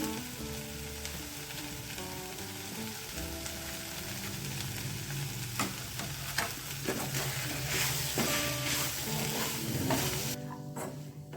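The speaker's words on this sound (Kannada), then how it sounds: "ಚೆನ್ನಾಗಿ ಫ್ರೈ ಮಾಡ್ಕೊಳ್ಳೋಣ" Sliced onions and curry leaves sizzle in a hot pan for a Kannada brinjal and methi leaves palya, a continuous close crackle with scattered sharper pops and occasional scraping of a spatula, with faint tonal background music underneath.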